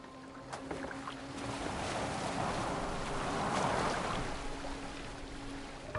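In Assassin's Creed Valhalla, a boat moves across open water with a broad, steady wash and rush of water. Soft knocks of oars or wood sound near the start, and the wash swells slightly in the middle.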